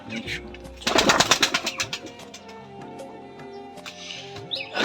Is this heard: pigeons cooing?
yes